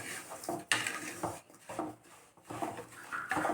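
Semolina and sugar roast in ghee in a pan, the spatula making repeated rough scraping strokes with short pauses between them, moderately loud and close.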